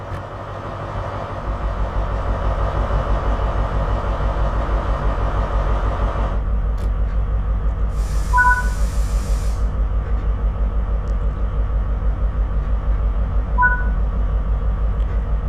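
Train arriving at Ealing Broadway in the railway game Train Sim World: a steady heavy rumble with rhythmic wheel clatter, a brief hiss burst, and two soft two-tone chimes rising over the continuous drone.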